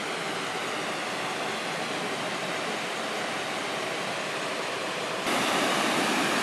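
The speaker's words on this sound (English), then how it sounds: "That's the rushing water you're hearing right now." Constant loud roar of water rushing at Deer Creek Dam, a broad steady wash of noise that swells slightly louder near the end.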